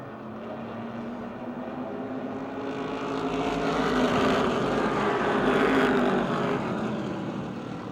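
Wyotech Modified race cars circling Motordrome Speedway on the opening lap: a broad, roaring wash of engines that swells as the pack nears, peaks, then eases off a little, loud and continuous.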